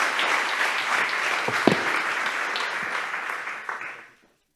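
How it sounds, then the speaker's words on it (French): An awards ceremony crowd applauds a prizewinner, sustained dense clapping filling the hall, with a couple of sharper claps standing out before the sound cuts off abruptly near the end. "On vous applaudit."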